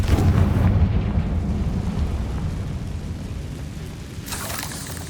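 A Confringo blasting spell explodes in Hogwarts Legacy as a deep, rumbling blast that rolls and slowly decays, followed by a brief hiss of debris near the end, with no voices.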